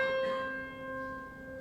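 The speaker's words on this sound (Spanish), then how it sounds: "Y la mitad de la cuerda suena así." Half-length string of a monochord plucked, a higher, pure sustained tone ringing softly and gradually fading, heard alone.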